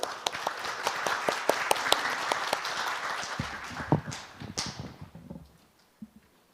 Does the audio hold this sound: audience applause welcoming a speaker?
yes